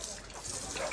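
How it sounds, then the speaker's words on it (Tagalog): Water gushes into a bucket on a farm, a brief, dense, close rush of pouring liquid lasting under a second. "Bubuan na natin tubig."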